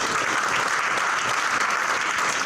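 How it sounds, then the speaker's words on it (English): Audience applause after a talk on democracy and justice in public education, a dense, steady wash of clapping from a large crowd filling the whole stretch, loud and continuous. "Give another strong round of applause."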